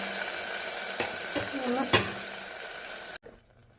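Buttermilk poured into a hot pan for Kerala moru curry, a bright close sizzle with stirring scrapes and a couple of sharp clinks, the hiss cutting off abruptly near the end to a quiet bubbling.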